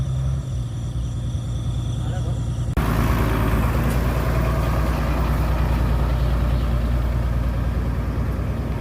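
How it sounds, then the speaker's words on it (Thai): A vehicle engine idles low and rough, then revs up abruptly partway through to a louder, steady higher-speed drone that holds to the end. "ทีนี้ก็เร่งเครื่องช่วยนิดหน่อย"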